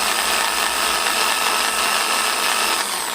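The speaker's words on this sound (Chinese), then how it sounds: "在这个位置钻个洞，把枝条插进去进行补枝。" A drill bores a hole into a bonsai trunk for branch grafting, giving a steady, loud, continuous whirring grind that holds even throughout with no talking.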